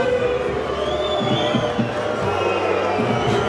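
A large rugby stadium crowd at a USAP versus Narbonne match cheers and applauds a departing player, a broad, roaring swell of voices and clapping with whoops rising from the stands, distant but loud and continuous.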